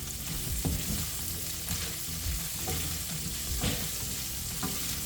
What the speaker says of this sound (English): you're gonna stir it up again